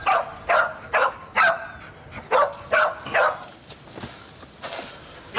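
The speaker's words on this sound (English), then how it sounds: "When he finds something, he barks." A human remains search dog barks in a run of sharp, loud barks close by, pausing briefly before a few softer ones follow.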